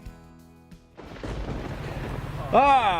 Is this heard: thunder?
yes